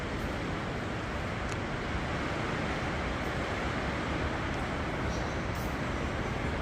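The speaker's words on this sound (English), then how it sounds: "Wow, it is really coming down outside." Heavy rain drumming on the roof of an insulated shop, a loud, dense, unbroken roar heard from indoors.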